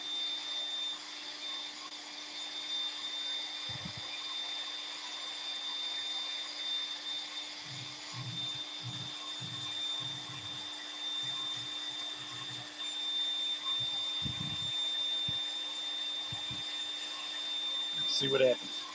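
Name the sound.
CNC spindle running at 18,000 RPM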